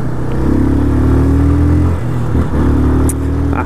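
A brand-new Yamaha Fazer 250 motorcycle accelerates close by, its loud engine note climbing in pitch, dipping briefly, then rising again in a second pull.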